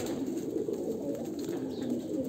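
Homing pigeons at a home loft coo softly and continuously, a low murmuring burble close by with no talk.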